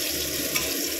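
Bitter gourd pieces sizzle in hot oil in a pan, giving a steady close frying hiss that goes on without break and with no talking.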